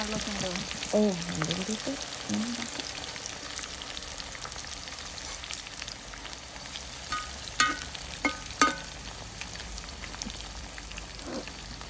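Jackfruit chips sizzle steadily in hot oil, with a few sharp clinks of stirring and a faint voice now and then.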